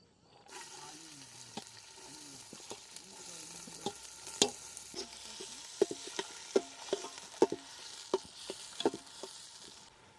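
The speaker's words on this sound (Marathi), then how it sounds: "इथे ना तेल टाकून घेतलं आधी त्यामध्ये पहिले ना कांदा टाकणार आहे" Onion frying in oil in a pan over a wood-fired chulha stove, a steady soft sizzle broken by sharp clicks and taps of a spoon stirring, close and fairly quiet, with no talking.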